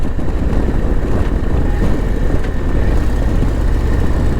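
A Harley-Davidson Road Glide CVO ST motorcycle under way, its engine a steady loud rumble blended with dense wind roar, continuous and unbroken throughout.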